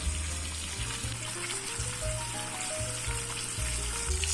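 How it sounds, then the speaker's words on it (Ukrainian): Steady sizzling and crackling of chicken fillet frying in a hot pan, continuous and fairly close, with a low hum underneath. "Викладаємо філе в сковорідку."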